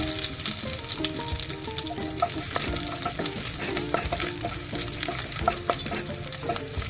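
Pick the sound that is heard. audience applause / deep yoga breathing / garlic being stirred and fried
garlic being stirred and fried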